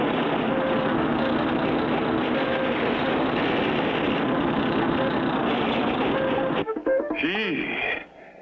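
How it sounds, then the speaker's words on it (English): A cartoon bulldozer engine runs as a steady, dense rumble for about seven seconds, then cuts off abruptly and is followed by a few brief clunks and a swooping tone. "We'll use this as a bulldozer to push the oily sand back."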